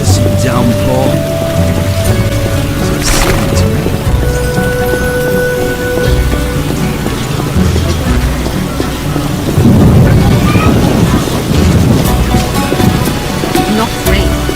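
A heavy downpour in The Witcher, with a deep rumble of thunder rolling under steady rain that swells louder near the end, accompanied by sustained musical tones.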